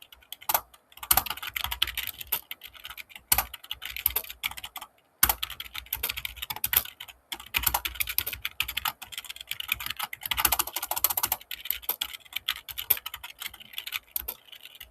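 Steady, rapid computer keyboard typing while code is written in Visual Studio, with close, crisp key clicks in uneven bursts, a brief pause around midway, and no talking.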